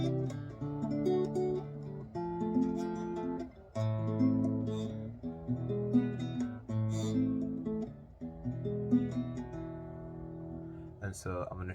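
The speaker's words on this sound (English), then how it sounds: "the whole song is played in arpeggios, so it's going to sound like this" A guitar picks out the arpeggiated chord pattern of the House of the Rising Sun intro, one note after another in a flowing, even rhythm, played clearly at moderate volume with no voices.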